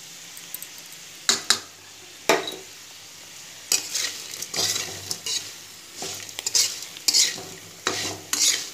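Potato chips fry being stirred in a hot pan with salt and chili powder, sizzling under repeated close scrapes and clinks of a spoon against the pan in irregular bursts.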